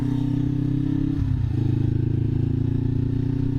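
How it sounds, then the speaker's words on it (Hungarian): A small motorcycle passes close by on a street, its engine drone shifting pitch as it goes past, heard from inside a car with no talk. "Kis motoros!"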